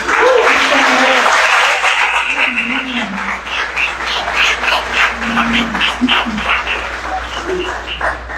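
A church congregation applauds joyfully throughout, with sustained clapping and voices mixed in over a steady crowd wash.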